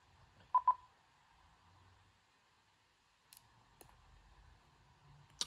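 Two quick electronic beeps from keyboard-shortcut display software, then a few sharp isolated clicks spaced apart over a faint hum, quiet and close.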